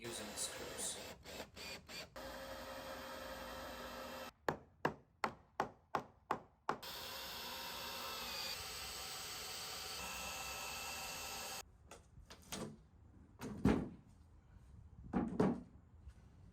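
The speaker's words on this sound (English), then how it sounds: "Attach support pieces to the legs and the frame using screws." Screws being driven to fix wooden support pieces to the legs and frame of a homemade dog ramp: long steady buzzing runs of a power driver, broken by sharp close knocks and taps, with some quieter clatter toward the end.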